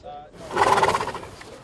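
A horse gives a single loud, close whinny lasting under a second, rising and wavering before it trails off, with quiet background around it.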